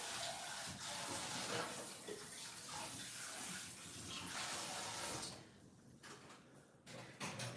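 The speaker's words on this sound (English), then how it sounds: "Let me wash this. Rinse this out a little bit." Running tap water pours steadily in a kitchen as something is rinsed under it, a continuous close splashing hiss that breaks up near the end with a few interruptions and clatters.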